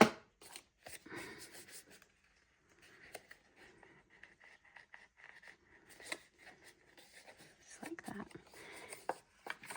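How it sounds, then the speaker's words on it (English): Scissors cut a hole in paper close by, a series of small snips and paper rustles, soft and irregular with short pauses between them. "So I'm just going to cut enough of a hole that it can kind of peek out."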